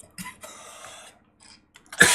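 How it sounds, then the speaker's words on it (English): A single person gives a few short, rough coughs in a quiet room, close and fairly loud, with brief gaps and a sharper, louder burst at the end. "I swear I wasn't coughing like that like 30 seconds ago."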